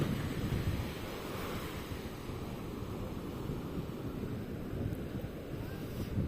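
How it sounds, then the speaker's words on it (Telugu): Ocean waves break on a beach near Nellore in a steady, continuous roar, with gusting wind buffeting the microphone throughout. "అలలు మాత్రం చాలా ఎక్కువ వస్తున్నాయి."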